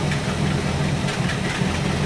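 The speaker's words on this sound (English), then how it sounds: "She's idling at 500 RPM, which is good." A 1964 Buick Electra 225 with a 401 Nailhead V8 and a rebuilt Carter AFB carburetor idles at about 500 RPM, a steady low rumble with an even pulse, close and continuous.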